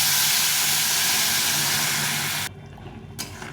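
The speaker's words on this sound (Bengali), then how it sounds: "এই মশলাটা কষা হয়ে গেছে ভালো করে এখন জল দিয়ে দেবো" Boiled water poured into spice paste frying in a pan gives a loud, broad sizzling hiss for about two and a half seconds, then drops to a quieter bubbling simmer.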